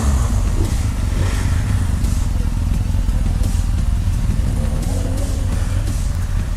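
BMW R1250 GS motorcycle ridden off-road in enduro mode, a loud steady engine drone with rattling and crackling from rough ground, close up and continuous.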